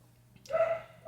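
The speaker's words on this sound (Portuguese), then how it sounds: "Os bichinhos da natureza se manifestam também, né? Os cachorrinhos." Small dogs barking somewhere in the background, a brief burst of yaps rising over a steady low hum before trailing off.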